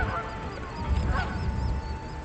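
The Gilded Goose card in Magic: The Gathering honks, two or three nasal goose honks clustered near the middle, heard over a steady layer of game music.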